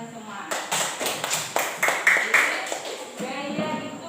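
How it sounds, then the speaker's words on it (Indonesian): A primary school class claps hands together in a classroom, a steady run of a dozen or so close claps in rhythmic pattern with voices audible throughout. "Tepuk tangan untuk kalian semua."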